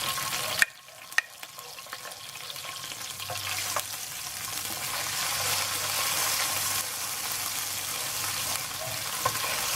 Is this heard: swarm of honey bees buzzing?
no